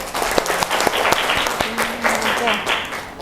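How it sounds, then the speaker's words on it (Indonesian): A class applauds a student presenter with continuous, fairly close clapping. Sharp individual claps stand out from the group, and a faint voice comes through briefly underneath. "Tepuk tangan buat Adiba."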